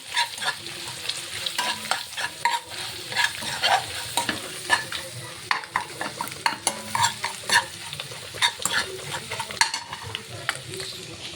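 Egg fried rice being stir-fried in a pan with spices, giving a low sizzle broken by frequent sharp scraping and clattering strokes in an irregular rhythm.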